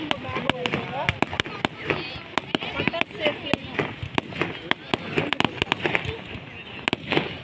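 Firecrackers burst in a rapid irregular string of sharp cracks, some close and loud, others quicker and lighter, with a background hiss and murmur of people between the pops.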